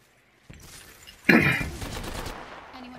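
A teammate fires a weapon in the game Apex Legends: a faint rumble, then a sudden loud burst of gunfire that slowly trails off, all close and up front.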